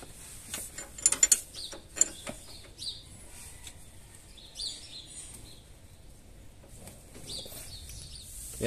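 A wrench works a nut loose on the power steering hose of a 2004 Ford Ranger, giving quiet metallic clicks and ratcheting taps in a scattered rhythm, close up with no talking.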